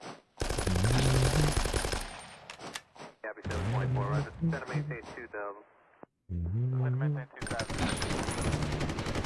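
Artillery and gunfire in the Roblox game Noobs in Combat: loud, dense bursts of blasts open and close the moment, with voices talking over and between them.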